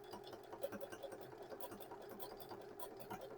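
A sewing machine working an automatic buttonhole with satin stitch and bar tacks, a soft, quick, steady whirring patter heard faintly up close without talk.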